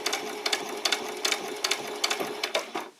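Sewing machine running a short back stitch on a dress bodice, rapid close needle thumps in an uneven pulsing rhythm, no talk.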